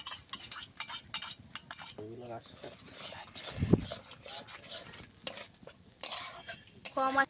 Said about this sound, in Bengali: ভালো করে মিশিয়ে নেব